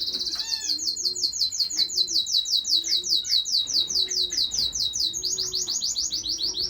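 Yellow and green Gouldian finches chirp in a bird room, rapid repeated high tweets running continuously and close, with softer low cooing calls beneath.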